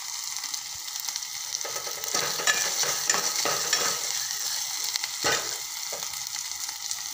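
Tomatoes cooking down in a pan for palak dal, a soft steady sizzle with stirring scrapes that grow busier midway, close and without speech.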